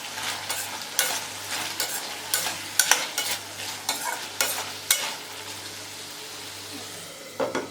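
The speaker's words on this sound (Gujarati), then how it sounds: "હવે આપણે હલાવી લઈશું" Tindora (ivy gourd) curry is stirred in a pan in a series of sharp, close scraping strokes at an irregular rhythm over a low simmering hiss, with brief pauses between strokes.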